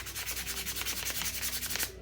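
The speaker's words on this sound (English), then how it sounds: "get used to sanding, because you sand a lot." Sandpaper rubs back and forth on a small wooden crankbait fishing lure in quick, regular strokes, close and fairly quiet.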